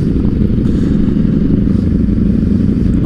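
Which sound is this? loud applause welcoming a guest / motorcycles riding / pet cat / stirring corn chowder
motorcycles riding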